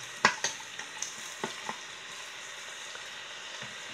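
Chopped onion sizzles and fries in a fast-heating pan, a steady crackle broken by a few sharp stirring clicks and knocks, close and alone.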